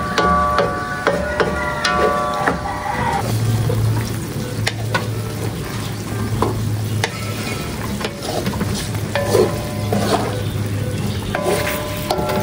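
Chilies stirred and fried in a pan over a butane burner, a loud continuous sizzle with repeated scraping and clanking of the spatula against the pan, no voices.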